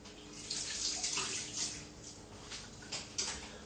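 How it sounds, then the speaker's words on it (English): Water runs from a kitchen tap as hands are washed while making piña colada ice cream, a steady close splashing stream with small surges and no talking. "Let me just wash my hands quickly."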